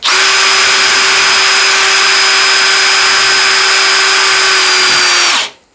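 A Parkside PPBSA 20 Li A1 cordless drill driver whines steadily at high speed while driving an 18 cm, 10 mm screw, a loud, close, continuous motor tone that cuts off abruptly at the end.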